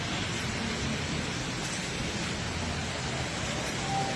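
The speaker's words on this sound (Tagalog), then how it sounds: "Grabing lakas ng ulan." Heavy rain pours steadily as a dense, even broadband hiss, loud and unbroken throughout with no clear talk over it.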